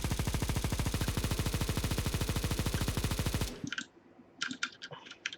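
Negev machine gun in a video game firing one long, rapid, steady burst of dense repeated shots for about three and a half seconds, then cutting off to quieter scattered clicks and faint background sounds.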